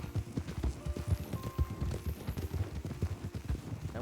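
A horse in Red Dead Redemption 2 gallops in a rapid, even clip-clop of hooves, close and moderately loud over a quiet game background, with no talking.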